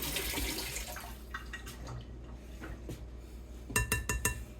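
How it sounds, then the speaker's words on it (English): Water runs at a kitchen sink as a hand is rinsed, a steady splashing stream with a few clinks of dishes, ending in several sharp knocks. "here at the sink, so, and rinse my hand because I did crack an egg"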